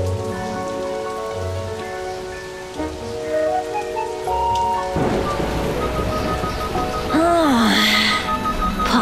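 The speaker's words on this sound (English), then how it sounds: "It's a very rainy day today." Heavy rain falls steadily with a rumble of thunder partway through, joined by music and a cartoonish rising-and-falling voice-like tone.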